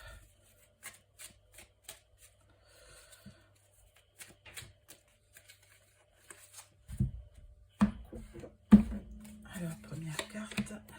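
Spark of Love oracle cards by Irene Rust being handled for a love reading: soft scattered taps and flicks at first, then denser, louder riffling shuffles near the end, with a voice talking over them.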